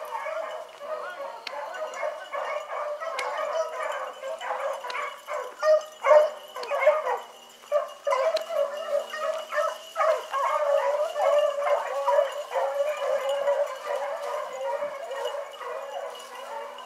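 Beagle hounds bark, yip and bay continuously during a spring rabbit-chase training outing, the pack sounding at middle distance with busy, overlapping cries.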